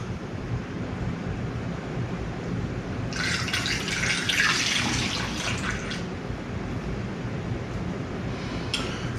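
Mead must being poured into a 1 gallon keg for pressure fermenting, a steady splashing pour of liquid lasting about three seconds mid-clip over a quiet room background.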